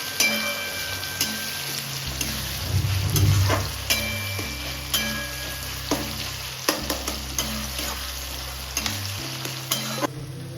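Onions sizzle and fry with dried red chillies for a mutton korma, with steady hot-oil crackle and repeated scraping stir strokes from a spatula across the pan, close and continuous with no talking.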